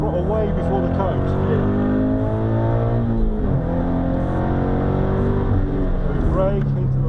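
In-car sound of a sprint race car held at full throttle on an airfield circuit, a loud, close engine drone with shifting harmonics as revs climb and settle, continuous throughout.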